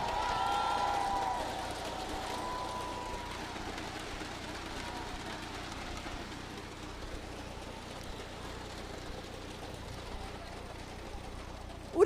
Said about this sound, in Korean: 모두 함성으로 환호해 주십시오!